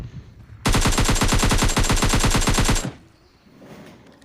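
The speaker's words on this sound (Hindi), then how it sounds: "अगेन मुझे एक बॉट फायर करता है" Rapid automatic gunfire from a bot in the mobile battle-royale game PUBG Mobile Lite: a loud, fast, evenly spaced burst lasting about two seconds, then an abrupt stop leaving faint background noise, with no voices.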